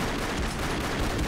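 Gunfire from the side-scrolling action game Broforce is a dense, continuous barrage of loud overlapping shots and blasts, noisy and sustained for the whole short burst.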